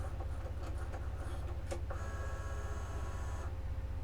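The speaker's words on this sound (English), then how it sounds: "So it is just going back over those corners just to make sure that they are cut through." A Cricut Joy 2 cutting machine retracing corners of a cut, a steady low mechanical hum with faint motor whirs and a brief higher servo whine midway, close and alone.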